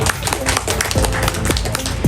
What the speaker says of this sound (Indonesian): Sehingga tepuk tangan dulu seperti itu.